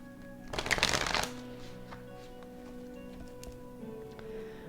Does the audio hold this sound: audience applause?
no